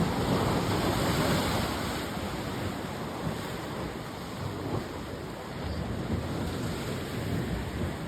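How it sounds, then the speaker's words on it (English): Ocean waves crash against rocks at Terrigal beach on the NSW Central Coast at sunrise, a loud, steady roaring wash of surf with heavier surges near the start and no voices. "looking at the waves crashing against the rocks"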